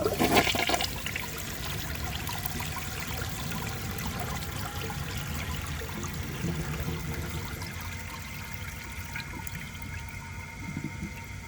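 A 1973 Eljer Emblem toilet flushing, opening with a loud rushing surge of water that settles into a steady draining trickle and refill flow, close and alone with no talk.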